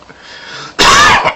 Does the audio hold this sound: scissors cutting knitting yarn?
no